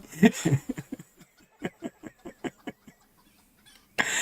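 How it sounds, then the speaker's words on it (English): A chicken clucking outdoors on a farm, a run of evenly spaced, fairly close clucks in quick rhythm, with a voice briefly heard at the start and end. "The chicken out there's laughing. I can hear it."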